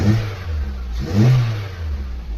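A Suzuki SX4 car engine, one with an intermittent starting fault, gets a short rev, a low close-up engine hum swelling once and easing back to idle.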